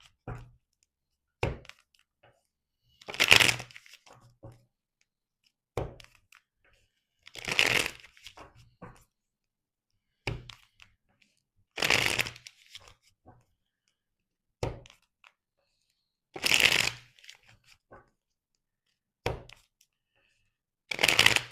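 Tarot cards being shuffled by hand during a reading, in repeated bursts of riffling and soft slapping about every two seconds, close and fairly quiet, with no talking.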